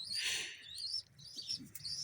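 High, thin chirps from pigeon chicks in a nest come in short bursts, fairly faint, with a low background rustle and no voices.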